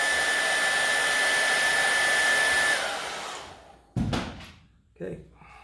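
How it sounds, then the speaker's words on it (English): An ordinary hair dryer heats a hammer on an old Steinway piano during restoration, blowing with a loud, steady whoosh and whine for nearly three seconds before cutting off, followed by a couple of knocks and a brief voice. "Just a regular hair dryer."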